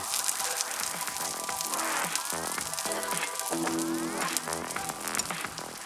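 Butter and bacon sizzle in a cast iron skillet with a quiet, steady crackle and pop that runs the whole time and is heard alone.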